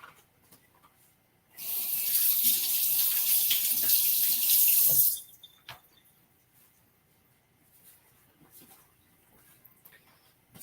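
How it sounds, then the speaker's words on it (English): Tap water runs steadily into a sink for a few seconds while hands are rinsed, then cuts off, leaving faint kitchen clatter. "I'm gonna go rinse my hands real quick"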